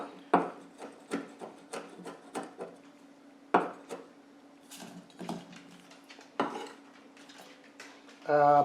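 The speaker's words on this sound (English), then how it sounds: "some fresh garlic. Chop it up nice and fine." Fresh garlic being finely chopped with a knife on a board: a quick run of crisp, irregular chopping strikes, close up, with short pauses between bursts.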